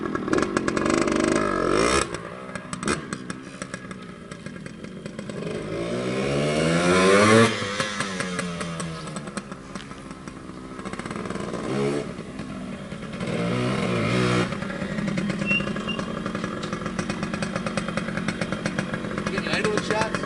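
A 1990 Yamaha RT100 motorcycle engine running with a rough, buzzing putter, swelling and dipping in pitch as it is blipped, with people talking nearby over it.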